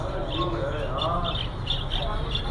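Pet birds call at a bird market where breeder pairs are for sale, giving repeated short chirps and squawks under steady crowd noise and murmured talk.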